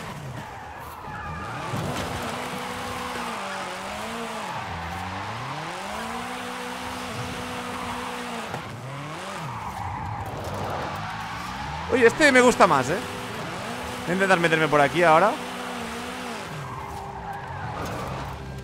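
A car drifts in the Forza Horizon 5 video game, played on a steering wheel, its engine droning with rising and falling revs and two bursts of loud tire skidding, while someone talks over it throughout.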